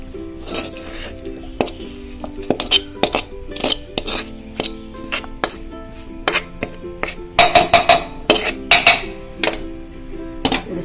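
Chopped onion and tomato being dropped into a mixer jar, with clinking of the jar, a spoon and utensils in a kitchen while making dried fish curry. The knocks and clinks are close and sharp, irregular, with a busy cluster near the end.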